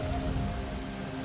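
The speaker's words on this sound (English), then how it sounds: "Keep moving, moving, moving in this heavy rain." Heavy rain in the survival game Soulmask, a loud, dense, unbroken downpour hissing and pattering on surfaces with a low rumbling undertone, no voices present.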